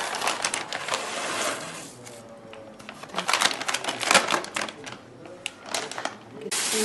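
Sunflower seeds poured out of a bag during a police search, a rattling, pattering cascade in bursts with crinkling plastic, loud and close, with some voices in the background.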